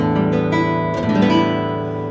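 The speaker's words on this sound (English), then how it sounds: "that's the sound of that concert guitar" A concert guitar played up close, sustained ringing strummed chords with a fresh attack partway through, rich and steady without any voice.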